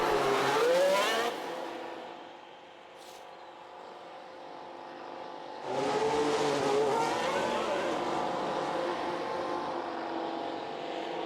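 A Formula 1 race car heads out on its out lap in F1 Manager 2022, its engine revving with rising gear-change whines, fading lower in the middle before a louder, closer surge.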